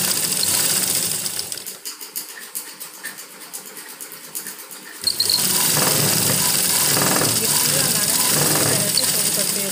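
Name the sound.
sewing machine stitching a cloth drawstring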